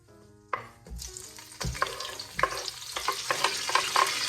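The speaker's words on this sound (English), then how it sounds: "Alright, so the oil is hot. I'm just gonna add in my onions." Onions drop into hot oil and start frying, with a sudden sizzle that builds into a steady crackle, broken by scraping stirs and light clatter close by.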